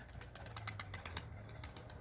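Pigeons cooing in low, rolling murmurs with bursts of wing flutter, close by and steady throughout.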